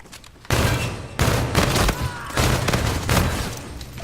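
Bursts of gunfire in the video game Call of Duty: Infinite Warfare, dense loud volleys lasting about a second each with brief gaps between, heard up close with no talking.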